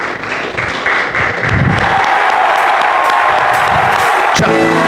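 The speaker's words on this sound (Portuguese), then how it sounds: "uma linda salva de palmas" Applause from a church congregation during a worship service. A steady, dense wash of clapping fills the room and builds louder, with faint tones underneath.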